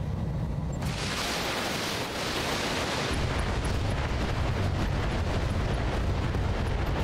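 Heavy mech weapons fire in the Battletech video game, sounding as a dense, continuous roar of explosive blasts that swells after a brief lull and stays loud and close throughout.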